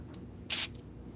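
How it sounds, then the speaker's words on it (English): Solvent cleaner is sprayed into a snowblower carburetor in one short, sharp hissing burst that lasts a fraction of a second against an otherwise quiet background. "we're gonna actually just spray a bit more in here as insurance"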